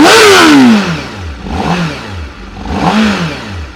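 A 2022 Honda Fireblade RRR SP engine revs hard and close. The pitch climbs and falls in three sweeping bursts, with the first rev the strongest.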